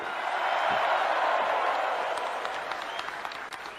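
A large audience claps in a dense, steady roar that gradually thins and softens, with scattered sharper claps standing out toward the end and faint voices underneath.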